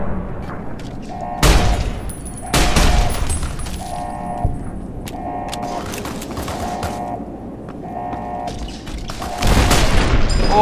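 Rockets blasting apart in Fallout: New Vegas, several loud booming detonations with sharp attacks and rumbling tails, interspersed with clattering gunfire and mechanical noise.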